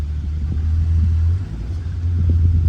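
1951 Studebaker Champion Convertible engine idling just after starting, a steady close low rumble with a slight dip midway and no talking.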